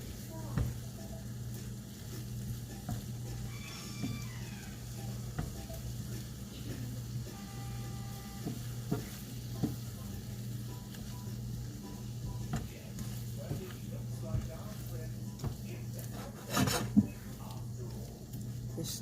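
Shrimp in garlic butter sizzle softly in a pan while being stirred, with light scraping and ticking taps of the utensil against the pan over a steady low hum.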